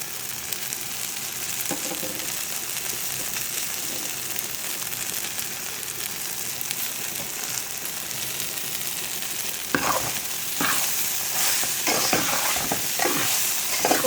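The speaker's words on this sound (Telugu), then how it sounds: "పొడి బెండకాయ ఫ్రై జిగురు లేకుండా చక్కగా బెండకాయ ఫ్రై అయిపోతుంది" Okra pieces fry in a pan with chili powder and ground coriander, producing a constant close sizzle; toward the end, repeated scraping stirs with a spatula cut through the hiss, with no voices.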